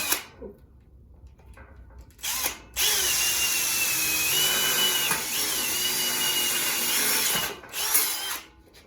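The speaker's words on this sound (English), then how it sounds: "drill a hole right here too." A power drill making a hole in wood for a homemade table and shoe rack: short starts of the motor, then a loud sustained whine lasting about five seconds that wavers as it bites, before it stops.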